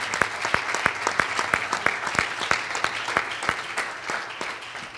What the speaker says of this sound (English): let's give the latest married couples in the church a good hand clap